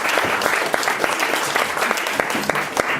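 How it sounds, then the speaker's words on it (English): Audience applause fills a room at a history happy-hour talk as speakers are called up. The clapping is dense and steady for the whole stretch, with a few sharper, louder claps standing out. "give them a big round of applause"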